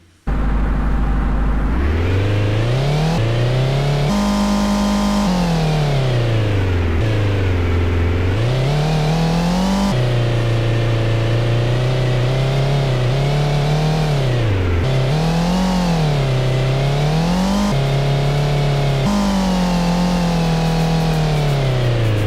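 Car engine in a homemade Godot driving game revving repeatedly, its synthetic tone climbing and falling in pitch over and over with brief cut-offs, loud and close with no talking.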